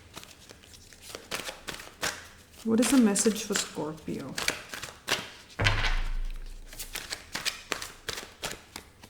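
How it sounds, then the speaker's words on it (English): Tarot cards shuffled by hand in quick riffling bursts and soft taps, close and clear, mixed in with someone speaking in between. "I'm just giving them a last shuffle"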